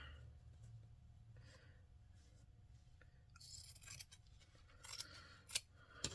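Quiet snipping of scissors through quilting fabric, a few short crisp cuts near the end after a soft rustling lead-in.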